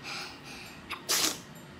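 A single sharp sneeze bursts out close by around the middle, preceded by a faint sniff, with a quiet room behind it.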